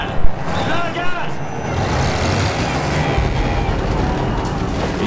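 A tank engine roars at full throttle in the Battlefield 1 video game, a loud, steady rumbling drone with grinding mechanical clatter throughout and a couple of sharper bursts near the start.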